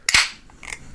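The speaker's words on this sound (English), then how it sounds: "just cracked the can open." A sharp metallic crack and hiss as an energy drink can's tab pops open, followed by a softer fizzing release a moment later; close and alone.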